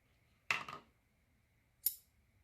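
Right-handed scissors snip excess felted wool off a piece being shaped into a cat face, two distinct close cuts in quiet surroundings.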